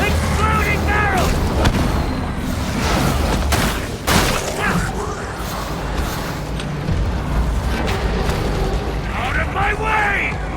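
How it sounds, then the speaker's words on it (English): Barrels blowing up in Warhammer 40k: Darktide, heard as rolling, heavy blasts mixed with steady gunfire that keep going almost without pause. Voices shout here and there over the loud, crowded battle noise. "Exploding barrels!"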